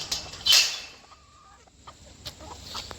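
A sick hen gives a few soft, scattered clucks in a quiet setting, with a sharper squawk near the start.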